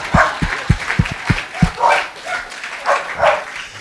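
A dog on a street gives a quick series of five or six sharp barks close by, followed by softer, fainter yelps and whines.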